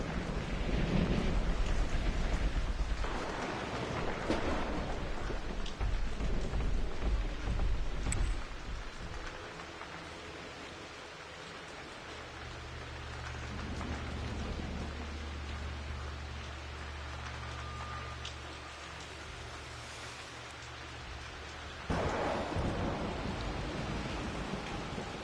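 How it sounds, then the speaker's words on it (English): Steady rain with rolling thunder in Rise of the Tomb Raider, Croft Manor, a dense wash of downpour that swells loudly at the start, eases in the middle with a low rumble, then surges again near the end. "Rain."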